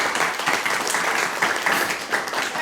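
Audience applause for the Blue Blazers, a sustained wash of many hands clapping at moderate loudness without a break.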